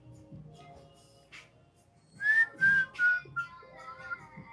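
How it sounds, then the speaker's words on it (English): Someone whistles a short run of clear, bright notes, four or five tones with brief gaps, over faint background murmur and room noise on a live stream. "I love to whistle too."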